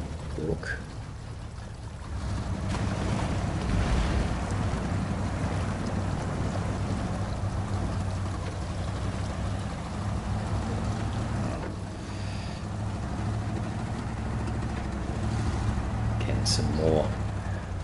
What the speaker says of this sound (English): Let's cross over the babbling brook.